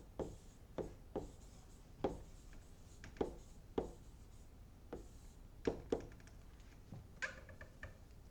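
Chalk or marker tapping and scratching on a board during a math lesson, a series of sharp close strokes at uneven intervals, fairly faint, with no one speaking.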